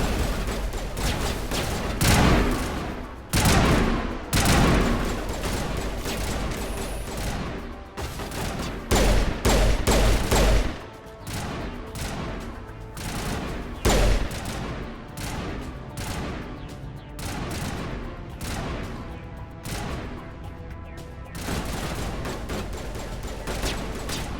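A Mass Effect firefight crackles with dense bursts of gunfire, rapid automatic shots and heavy booming blasts in irregular clusters, loud throughout with no speech.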